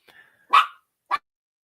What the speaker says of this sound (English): I heard a dog Yeah, barking.